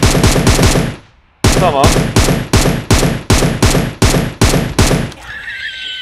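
An M762 assault rifle in PUBG Mobile fires in rapid, loud, close bursts, with a short pause near the start and a steady rhythm of shots after it; a brief spoken word is heard.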